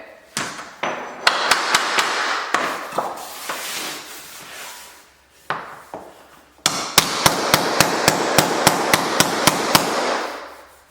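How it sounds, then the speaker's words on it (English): Sharp hammer taps knock waterproof vinyl floor planks into place in uneven bursts, then settle into a steady, rapid run of evenly spaced strikes close by. "It really doesn't take much to tap these into place, but it's nice when you can swing your hammer."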